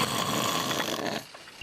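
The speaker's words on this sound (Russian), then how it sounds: "Эта музыка знакома каждому. Присутствие храпуна способно лишить покоя всех, кто рядом." A person snoring, one long rough drawn-in snore at close range that fades into quiet near the end.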